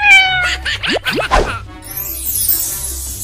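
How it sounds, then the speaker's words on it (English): A cat meows a few times, drawn-out and wavering, then a bright whooshing, sliding tone rises up. "Cat."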